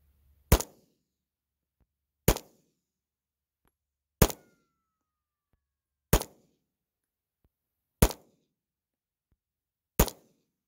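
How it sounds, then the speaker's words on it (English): A Kimber pistol still being broken in fires six sharp shots outdoors, evenly spaced about two seconds apart, each a loud crack with a short decaying tail and silence between. "So let me just take a few shots with this. We're still breaking in the Kimber."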